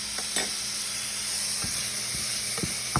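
About a tablespoon of garlic sizzles in a pan for shrimp étouffée, a close, steady hiss broken by a few scraping stirs, with no speech.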